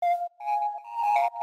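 Soft analog-style synth pluck built from a sine wave with a touch of white noise, playing a short run of simple jazzy, bluesy solo notes for lo-fi house; clean, close and alone, with brief gaps between phrases.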